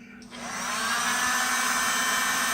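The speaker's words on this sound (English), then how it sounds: "So I went back to my other trusty friend, which is the heat gun, and tried it with the heat gun." A heat gun on high power blows hot air onto a Doctor Octopus action figure's tentacles. It switches on and ramps up to a loud, close, steady whooshing whine that holds until it cuts off abruptly.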